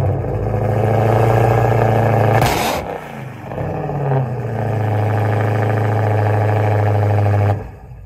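A car engine runs loud and steady close by, its idle rumble broken by a brief burst of noise midway before settling back into the same even drone, then cutting off near the end.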